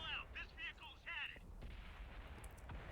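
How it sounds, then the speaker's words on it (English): Faint, distant artillery fire from World of Tanks rumbles low and dull beneath a whining tonal sound at the start, then settles into a steady muffled roar. "And that's artillery."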